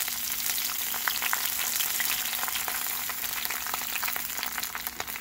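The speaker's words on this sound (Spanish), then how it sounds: "Ya tengo aquí un poquito de manteca, de aceite, para freír los chiles y el ajo." Chiles and garlic frying in lard and oil, a loud, even crackling sizzle full of rapid spitting pops, steady throughout at close range with a faint hum underneath and no talking.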